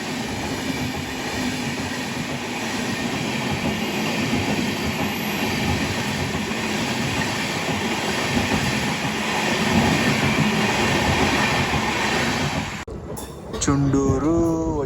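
A Nellore to Vijayawada MEMU express train running, its steady rumble and rhythmic clatter of wheels on rails heard from inside the carriage, with a sharp change and whistle-like squeal near the end under faint voices.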